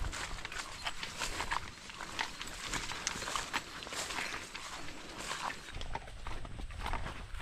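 A horse hauls harvested rice along a field track, its hooves clip-clopping in a steady walking rhythm under a wash of outdoor noise, with no talking.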